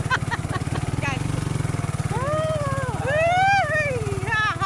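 A motorcycle engine idles with a fast, low, even putter throughout, while a voice talks and laughs over it at close range.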